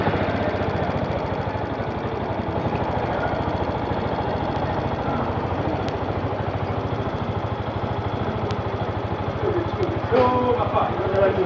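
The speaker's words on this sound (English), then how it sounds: "So let us start the bike and we see." A Yamaha Majesty YP250 scooter engine chugs in a rapid, steady idle close by, a rough mechanical pulse throughout with a brief rise near the end, while a person talks over it.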